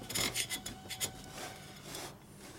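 A carbide scraper rasps gasket material off a Harley shovelhead cylinder head in a few quick, close, gritty strokes, followed by quieter scraping and no talk.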